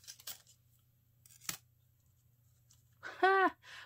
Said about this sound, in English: So when you cut this out,